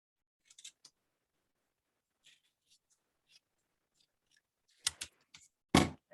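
A few quiet, scattered snips of scissors cut out a paper dress pattern piece for sewing a summer dress. Louder, closer cuts come near the end against otherwise silent room tone.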